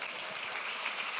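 A church congregation claps faintly for a brief moment, a soft, steady patter of applause heard at a distance.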